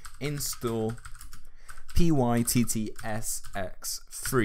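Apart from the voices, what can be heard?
typing a command on a computer keyboard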